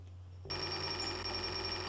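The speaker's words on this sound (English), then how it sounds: "So let's ring this doorbell. Now, as soon as I hear it ringing," An electric bell rings in the adventure game Goblin's Quest 3, a sharp, steady trilling clang that starts abruptly after a brief hush and keeps going, loud and alone.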